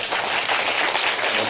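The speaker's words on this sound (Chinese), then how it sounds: "来掌声鼓励一下" An audience claps continuously in a dense, even burst of applause lasting a moment, with no voices over it.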